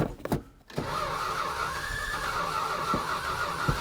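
A worn starter on a 1973 Dodge D100 pickup cranks with a steady whirring grind and a high squealing whine, close and loud, after a few short clunks and a brief pause.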